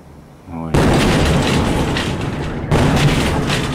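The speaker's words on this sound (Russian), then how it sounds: "Это звуковая волна, астероид." A deep boom from the Chelyabinsk meteor's shock wave over the Urals hits suddenly and loud, followed by a second blast of rumbling roar that persists, recorded outdoors with a broad, sustained sonic roll.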